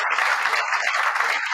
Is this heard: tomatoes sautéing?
no